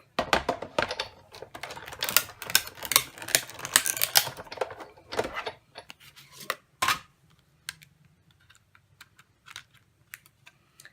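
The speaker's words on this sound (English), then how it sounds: "flip it over on my cutting plate, put the plate on top, and crank it through" A photo and cutting plate grind through a hand-cranked die-cutting machine with a dense run of close clicking, rasping strokes that thin out into a few sparse ticks.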